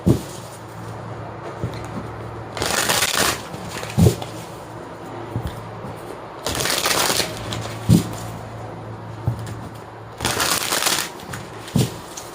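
Tarot cards are shuffled in three separate bursts of close, crisp riffling, spaced a few seconds apart, with quieter card handling and soft taps in between.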